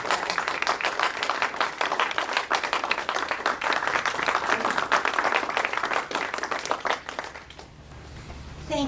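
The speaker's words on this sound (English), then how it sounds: "please stand for a round of applause for putting together once again such perfect event" Sustained round of applause from a college conference audience, dense clapping at a steady level for most of the stretch before tapering off near the end.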